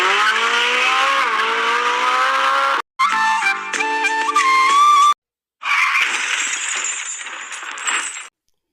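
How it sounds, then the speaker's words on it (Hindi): A car skids in an accident, with loud tire squeals and engine roar in separate bursts broken by short silences. It sounds like a dramatized scene, and no one speaks. "वो हमारी कार से किसी लड़की का एक्सीडेंट हो गया है"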